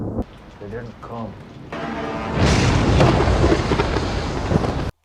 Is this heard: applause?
no